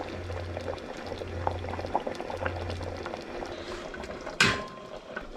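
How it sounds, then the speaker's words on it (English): Sauce simmers in a pan with a steady bubbling and a soft low hum beneath it, then a brief sharp clink near the end. "Alright, let that simmer for, I don't know,"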